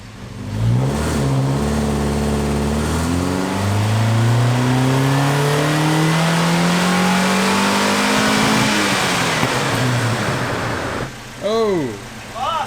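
An Alfa Romeo GTV on a dyno pulls up through its revs in one long, loud, rising run, then drops off sharply, with a brief extra rev and a voice near the end.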